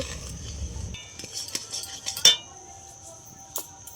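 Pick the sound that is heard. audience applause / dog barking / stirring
stirring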